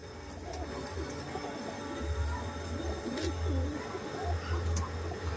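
A domestic pigeon cooing in repeated low, soft throaty bursts, fairly close, with faint background ambience and no talk.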